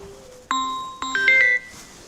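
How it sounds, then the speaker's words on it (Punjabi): A phone ringtone plays a short series of bright electronic chiming tones, fairly close, with quiet background. "ਕੀ ਦਾ ਫੋਨ ਆ ਗਿਆ"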